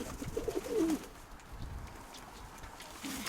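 A pigeon coos in a short rolling burst near the start, followed by quieter ambient noise and a faint stir at the end.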